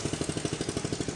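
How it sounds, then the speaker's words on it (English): A crude homemade vehicle, just an engine bolted onto a frame, runs nearby with a steady, fast, chugging putter of even pulses, like a small single-cylinder motor idling. "Someone's just got an engine, got a frame and made that."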